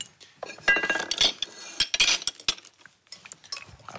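A spoon mixes butter into biscuit crumbs for a pie crust in a bowl, giving irregular scraping clinks and scrapes of metal on the dish, close and fairly loud, with short pauses between bursts.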